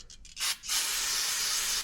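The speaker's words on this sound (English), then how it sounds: "spray some brake clean on a towel" Brake cleaner sprays from an aerosol can onto a shop towel during a YZ125 two-stroke engine build, a few short hissing bursts followed by one long steady spray, close and clear.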